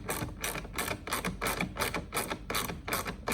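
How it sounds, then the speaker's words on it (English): Bolts on a Ford Bronco air box being tightened in a crisscross X pattern, giving a steady run of close ratcheting clicks in even bursts, roughly ten quick mechanical pulses with no voices. "I like staggering the tension on the bolts instead of doing all on one side and then the other"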